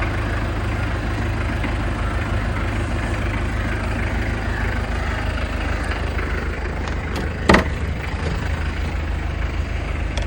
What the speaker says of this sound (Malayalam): നമുക്ക് എന്തായാലും ഇതിൻ്റെ എഞ്ചിൻ സൗണ്ട് ഒന്ന് കേട്ട് നോക്കാം